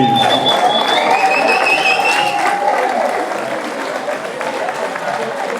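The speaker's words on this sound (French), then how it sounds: "applaudissements s'il vous plaît." Crowd applause at a mountain bike enduro race podium, with dense clapping and some cheering. Whistles or calls rise over it early on, then the clapping thins slightly and carries on steadily.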